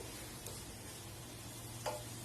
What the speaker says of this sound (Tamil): இப்படியே கொஞ்ச நேரம் அப்படியே ரோஸ்ட் ஆகட்டும் இந்த எண்ணெயில் வதங்கி